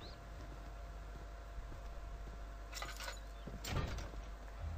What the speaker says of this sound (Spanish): Bien, se cerró la puerta.